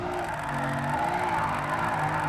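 A car sliding sideways in Gran Turismo Sport, played on a Fanatec GT DD Pro wheel: a steady engine drone in second gear with continuous tire skid noise, moderately loud and without pause.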